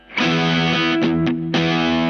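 Electric guitar played through a Boss DS-1w distortion pedal with the distortion turned down, giving loud sustained distorted chords with two brief breaks where the notes are re-struck and ring on.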